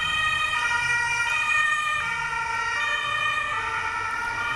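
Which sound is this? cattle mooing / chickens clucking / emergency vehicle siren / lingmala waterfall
emergency vehicle siren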